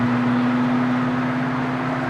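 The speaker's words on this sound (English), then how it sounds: "It's super loud in this car" Loud, steady drone of a decatted exhaust on a VW Golf MK3, heard from inside the cabin while cruising on a highway, with a constant low hum and broad road roar filling the whole clip without any talk.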